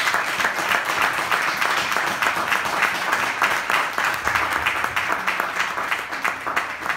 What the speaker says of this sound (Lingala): Acclamons très très fort le roi de gloire.